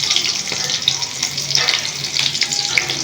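Onions and green chillies frying in hot oil, a close, steady sizzle with bright crackling pops throughout and faint stirring.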